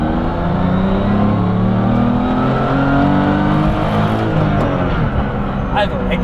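A BMW Z4 Coupe set up as a track car for the Nürburgring Nordschleife accelerates hard on throttle, its engine rising in a loud, sustained climbing roar heard from inside, with speech beneath.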